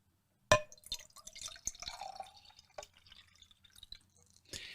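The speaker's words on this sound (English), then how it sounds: "And now we can put in the water." Water poured into a labelled drinking glass, starting with a sharp clink and followed by irregular close trickles and drips that stay fairly quiet.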